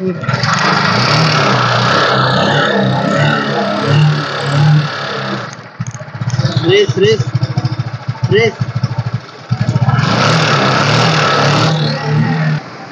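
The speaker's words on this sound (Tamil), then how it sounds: "வண்டி ஓடிட்டுருக்குங்க, நல்ல கண்டிஷனில் இருக்குது." A used 2015 motorbike or scooter in good running condition, second-owner, runs with a steady engine putter that rises in brief revs, while someone talks loudly over much of it.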